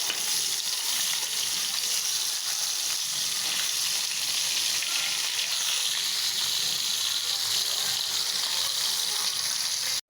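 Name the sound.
sautéing spices (turmeric, chili, salt) in a pan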